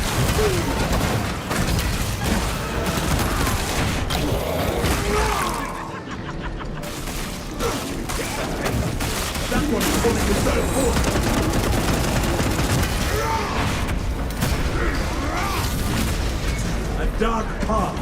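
A video game weapon fires continuously at its maximum rate with no spin-up, producing a dense, unbroken barrage of loud gunfire. The barrage runs for the whole stretch with only a brief dip in the middle, mixed with in-game effects and possible talk.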